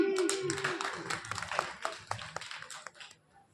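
An audience claps at a live storytelling show, with scattered hand claps breaking out and building, then thinning out and fading toward the end.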